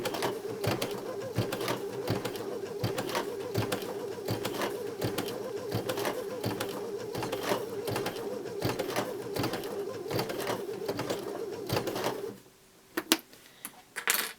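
A Baby Lock Sashiko sewing machine stitches binding onto a quilt, giving a steady rapid mechanical whir and tapping for about twelve seconds before stopping, followed by a few faint handling clicks.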